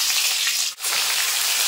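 Boiled jackfruit pieces frying in hot oil, producing a loud, even, close sizzle with one brief dip partway through.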